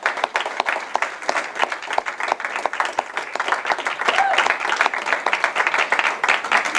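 A large conference audience claps for a master teacher, giving steady, dense applause with a crowd murmur that continues evenly for the whole stretch.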